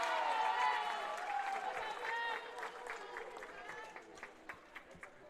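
Crowd applause and cheering at a college volleyball match after a big hit, a broad steady wash of clapping that thins into scattered claps, with a commentator speaking over it.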